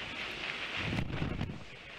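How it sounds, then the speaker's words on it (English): Strong hurricane wind from Irma gusts over the Manatee River, roaring as a broad rush that buffets the microphone. It swells into heavier bursts around the middle, with no speech. "I am fully exposed to just that wind going right over water"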